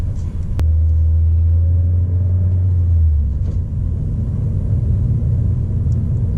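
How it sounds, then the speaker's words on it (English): A 2019 Toyota Corolla Hatchback with a six-speed manual gearbox accelerates, a deep, close engine drone holding for a few seconds before settling into a lower, steady rumble, with no talk. "Well, you give it a lot of gas, you're going to take off."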